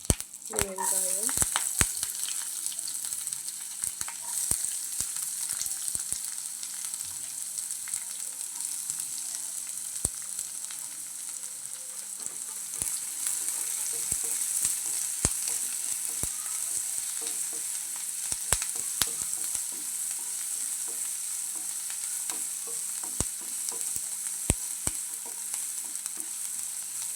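Onions sizzle and fry in hot oil with chili, cumin, salt and curry leaves for a South Indian tempering, with steady crackling and occasional scrapes of stirring, close and continuous throughout.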